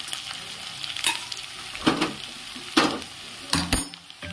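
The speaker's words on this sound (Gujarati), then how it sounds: "મસાલો જે તીંડોળી આપણે બોઇલ કરી મૂકી છે અને તેલમાં કતરાવા મૂકી છે" Boiled tindora fries in oil with masala, a soft continuous sizzle broken by several clear scrapes and clinks of a spoon stirring against the pan, close and moderately loud.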